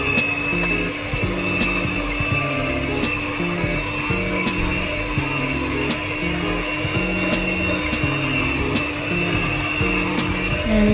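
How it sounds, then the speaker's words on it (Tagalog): Chocolate chip cookie dough being mixed with an electric mixer, a steady loud whirring motor hum that runs without pause, no voices heard. "I am going to add the half portion and mix it again"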